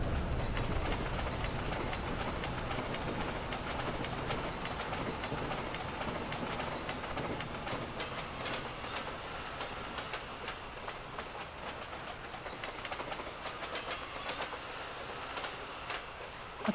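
A train on the opposite track rolls past in Train Simulator on the New York Central Boston–Albany line, a steady loud rumble of wheels and carriages with clickety-clack rail joints running throughout.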